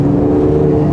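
Porsche Panamera 4 E-Hybrid (2020) pulling hard in Sport Plus mode on a winding road, a steady loud engine drone with strong low harmonics, heard from inside the cabin for about a second with no talk.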